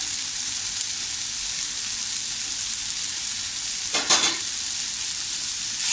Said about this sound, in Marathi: व्यवस्थित ढवळून गेलं